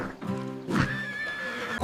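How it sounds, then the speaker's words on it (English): A horse neighs in a farm animal setting for children, one close, loud whinny with a rising then wavering tone that lasts under two seconds. "Neigh, neigh. That's a horse."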